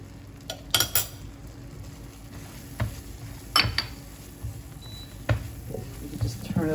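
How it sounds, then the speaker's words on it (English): Peanuts tipped into a pan of Vietnamese peanut dipping sauce and stirred, giving scattered soft clinks and scrapes of a utensil against the pan over a quiet kitchen background. "At the very end, we'll just put in the peanuts."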